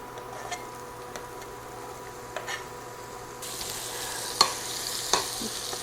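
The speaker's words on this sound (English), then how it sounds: "take our diced onion. We're going to add it to the bacon grease." Diced onion goes into hot bacon grease, and a faint, soft sizzle builds partway through, broken by a couple of light clinks of a utensil.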